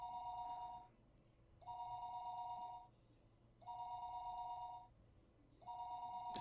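A telephone rings in the visual novel Higurashi When They Cry, an electronic two-tone ring sounding in four evenly spaced bursts about a second long, separated by quiet pauses, with no talk.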